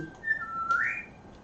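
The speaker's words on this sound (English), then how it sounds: "Good singing, Gracie." A pet bird whistles a short, clear rising and falling phrase, close and fairly loud, with no other sounds around it.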